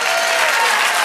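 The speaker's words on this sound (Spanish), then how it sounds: "Denle un aplauso al Señor." Congregation applause in a church service, a loud, dense wash of clapping hands, steady and unbroken across its brief length.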